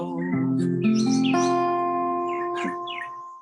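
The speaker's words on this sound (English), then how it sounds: "Got the birds in there." Birds chirp and tweet outdoors in a steady run of short calls, moderately close, with sustained tonal music or singing layered underneath.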